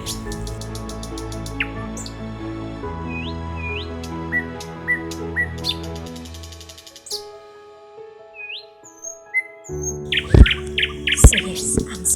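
Birds chirping in the Sikkim forest, repeated bright tweets and short rising calls over a layered background of tonal hum and music-like drones, with a burst of sharper calls and clicks near the end.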